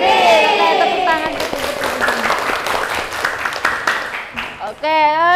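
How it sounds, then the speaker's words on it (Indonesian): A vocational high school class applauds, with a dense wash of many hands clapping under overlapping voices and chanting, before a single voice speaks at the end. "Tepuk tangan."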